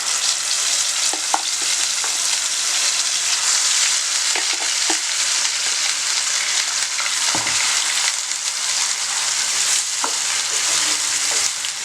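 Ground spice paste for chicken salna fries in a pan under a loud, constant hiss, with sporadic scrapes and knocks from stirring, close up and without any talk.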